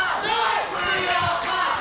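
A wrestling crowd cheers for a tag team at a live show, a dense continuous roar of voices without a break.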